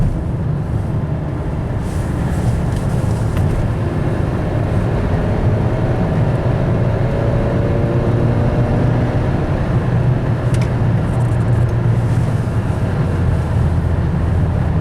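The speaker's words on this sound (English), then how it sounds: "You can still hear the engine, but you can't feel it anymore." A car engine idles steadily on freshly replaced rubber engine mounts, a low, smooth hum that stays even and continuous throughout with no talking.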